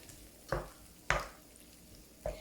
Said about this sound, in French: Voilà, je mélange, je vais laisser refroidir.